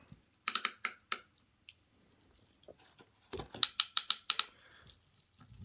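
Ratcheting clicker of a Piscifun Alijoz 400 fishing reel, heard in two bursts of rapid close clicks separated by a quiet pause, crisp and fairly loud with no talking.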